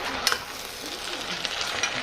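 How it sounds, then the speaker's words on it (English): Spaghetti is stirred in a warm pan while the heat stays low, a soft, continuous scraping and gentle sizzle heard close up without any speech. "You just want to mix everything together now"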